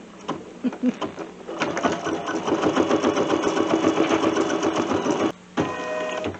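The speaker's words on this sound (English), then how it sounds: "put a bee for Bernina on the side of my machine, my little sewing machine" A Bernina sewing machine embroidering a bee design runs steadily at high speed for several seconds, a dense rapid mechanical whirr that stops briefly near the end, then resumes.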